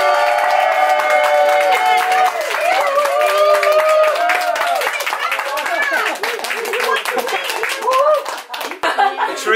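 A family crowd at a home Christmas Day gathering claps and cheers for a favourite cake, steady close applause with whoops and laughter throughout, thinning toward the end.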